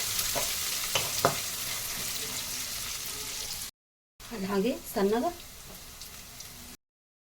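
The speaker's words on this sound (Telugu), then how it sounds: "అలాగే ఇవన్నీ చక్కగా దూరగా మనం వేయించుకోవాలి." Ginger and chopped onion frying in a pan for upma sizzle with occasional stirring knocks. After a short break a voice talks briefly over the frying.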